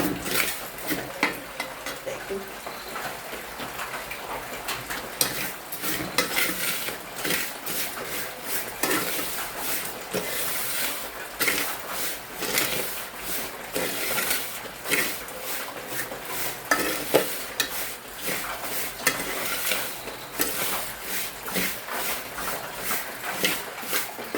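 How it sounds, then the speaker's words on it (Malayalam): Ingredients roast in a pan with continuous stirring, producing rapid, irregular scraping and rustling with a light sizzle underneath, close and steady throughout. "നമുക്ക് നന്നായിട്ട് വറുക്കാം"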